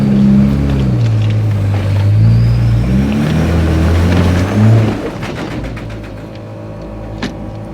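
A 4x4 engine labours in second gear up a hard off-road track in the Victorian High Country, a loud, close droning hum that rises and wavers in pitch, then eases and quiets toward the end.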